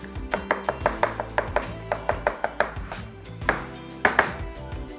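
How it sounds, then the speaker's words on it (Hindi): Roasted eggplant for baingan bharta being roughly mashed and chopped with a wooden spoon in a pan, a brisk run of about a dozen close, regular knocking thumps, then a short pause and a few heavier strikes. "तो ऐसे वुडन स्पून लेके उसको रफली मैश कर देते हैं"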